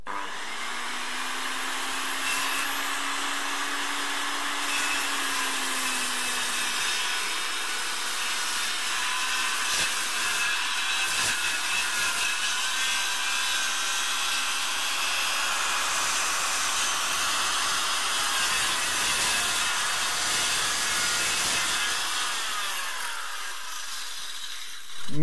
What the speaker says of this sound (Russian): это легкая дисковая электрическая пила